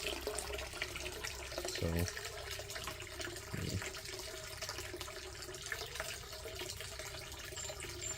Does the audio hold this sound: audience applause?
no